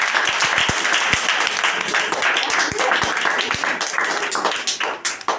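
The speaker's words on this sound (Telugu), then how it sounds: "అందరూ చప్పట్లు కొట్టండి." Sunday school children clap their hands at a birthday celebration, a lively run of uneven claps and sharp taps close by, with chattering voices throughout and the clapping thinning toward the end.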